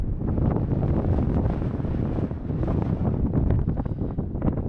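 Strong wind buffets the microphone in loud, continuous gusts with rumbling bursts at a beach in southern Portugal, no voices heard.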